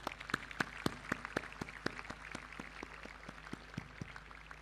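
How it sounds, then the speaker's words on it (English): Audience applause for award winners at a school event, heard as scattered, fairly faint individual claps in an irregular patter, with no talk. "the winners deserve our thunderous applause, which I invite you to collectively give them right now"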